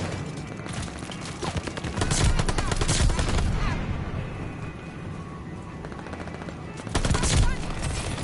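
Rapid automatic fire from an MP-40 submachine gun in Call of Duty: Vanguard, with dense, loud bursts that swell around the middle and again near the end over a busy game mix.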